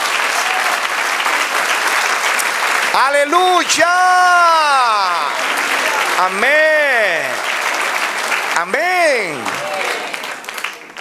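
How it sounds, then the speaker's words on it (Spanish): Church congregation applauding the Lord, steady clapping from many people under a preacher's loud, drawn-out exclamations, several sustained shouted calls rising over the applause. "Dale otro aplauso al Señor."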